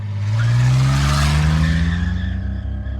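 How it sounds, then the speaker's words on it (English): A car pulls away close by with its engine revving and tires squealing, a loud rising whine and screech that swells, then fades over a few seconds. "gets into his car, and drives off"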